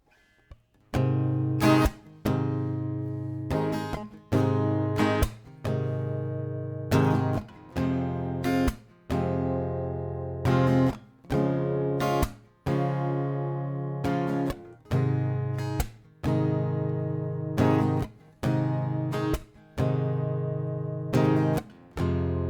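Acoustic guitar strummed through a chord progression, bright rhythmic strokes with brief pauses between chord changes, played alone with no voices.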